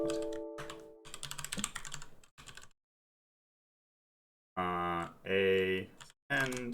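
Rapid keystrokes on a computer keyboard while typing in vim's insert mode, bursts of clicking separated by a silent pause, with a voice speaking between them.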